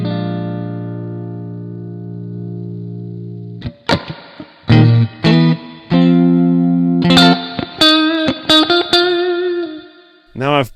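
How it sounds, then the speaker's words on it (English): An electric guitar runs through the Sat-X saturator distortion plugin in AmpliTube 5, a sustained saturated chord ringing out and then a series of short, punchy distorted stabs and notes with gaps between, close and loud. "Distortion, saturator."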